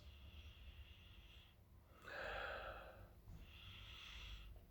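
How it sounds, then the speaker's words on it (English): Someone takes close, audible sniffs of an oatmeal stout beer poured with a thin off-white head, with two short nasal inhales and a stronger breath in between, all heard near and alone without talk. "Get into having a sniff for you guys."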